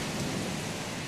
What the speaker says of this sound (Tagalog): Kidlat, kulog. Ang lakas.